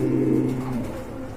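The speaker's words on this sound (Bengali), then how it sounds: "আর এগুলো হচ্ছে অনেক বড় সাইজের কবুতর।" Large pigeons for sale at a bird market, giving a low, throaty coo that carries steadily and close up for a moment, with no talk.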